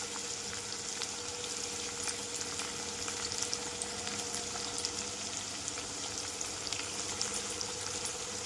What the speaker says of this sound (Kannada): ಚೆನ್ನಾಗಿ ಸಾಸಿವೆ ಕಾದ್ಮೇಲೆ ಈರುಳ್ಳಿ ಹಾಕ್ತೀನಿ. ಈರುಳ್ಳಿ ಚೆನ್ನಾಗಿ ಫ್ರೈ ಆಗಬೇಕು.